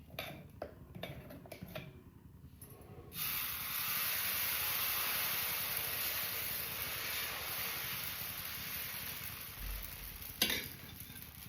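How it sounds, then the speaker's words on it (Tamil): Dosa batter hits a hot griddle and breaks into a loud, steady hiss and sizzle after a few soft utensil clinks, holding evenly to the end with one clatter near the close. "மாவு முன்ன தோசைக்கல்ல ஊற்றுவோம்"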